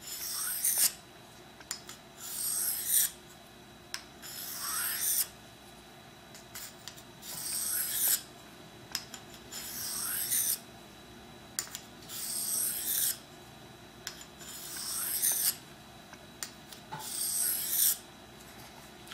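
A knife blade drawn along a ceramic honing rod, each stroke a smooth high-pitched scrape, repeated at a steady rhythm about every two and a half seconds, close and clear with quiet pauses between.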